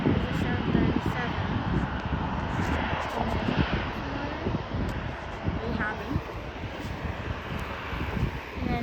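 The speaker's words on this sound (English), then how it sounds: "Here's American Airlines. So there's a 737." An American Airlines Boeing 737 jet airliner at Charlotte airport produces a loud, steady, close engine roar with some wind noise, continuing for the whole stretch.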